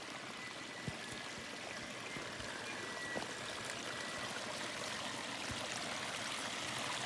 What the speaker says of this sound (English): these little creeks. They probably haven't run for 15 years.